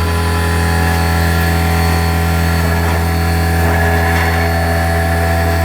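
A CNC router spindle fitted with a 3-inch surfacing bit spins at 5,000 RPM, producing a loud, constant motor hum and whine with steady tonal harmonics that never changes pitch or level.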